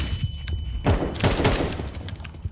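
A flashbang grenade goes off in a video game shooter with a muffled burst and crackling thuds amid rapid game noise.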